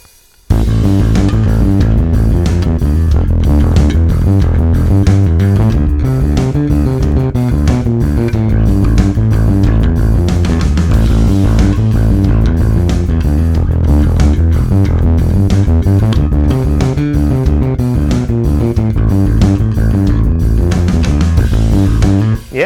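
Bass guitar playing a fast line, a rapid, steady stream of distorted, driving sixteenth notes that stays loud and dense throughout with no voices.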